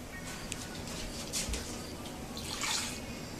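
Water is poured into a dry mixture of mustard powder and onion powder for a beer mustard in a home kitchen, heard as a faint, brief trickle and splash against quiet background noise.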